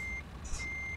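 Reversing beeps from a parked truck in Euro Truck Simulator 2, with a faint repeating tone over a low engine hum in a brief stretch.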